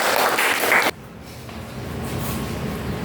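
A classroom bursts into applause, loud and dense for under a second before it cuts off abruptly, leaving only quiet room tone.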